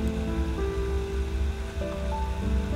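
Steady rain falls on a street in a drizzle turning to a downpour, a continuous close wash of patter with soft sustained musical tones underneath and no talking.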